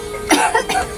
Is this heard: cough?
yes